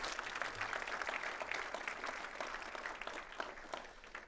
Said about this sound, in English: a round of applause for Laureen